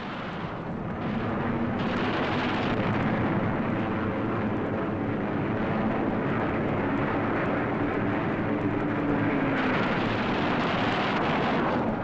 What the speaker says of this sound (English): Armor-piercing incendiary 50 caliber ammunition makes a flash when it strikes, and how it strikes.